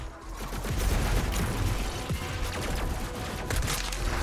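Mobile turret fire in the shooter game DOOM Eternal, a continuous loud, rapid fusillade of gunshots with booming impacts throughout.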